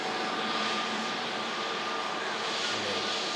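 An EgyptAir airliner departs Manchester Airport, its jet engines producing a broad, steady roar at moderate distance that holds evenly for a few seconds with no voices.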